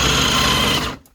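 Small electric motor of a 2003 Taiyo Team Edge Mutator RC car, an on-off throttle model on a Tamiya-style battery, whining loud and steady for about a second before cutting out abruptly.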